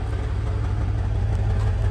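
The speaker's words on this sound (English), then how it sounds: "Sound like got a little exhaust noise back here, a little rattle in the exhaust." Exhaust of a 1993 GMC Suburban, a highway department truck with 160,000 miles, running steadily with a low, continuous rumble and a faint rattle from the exhaust, close by with no talking.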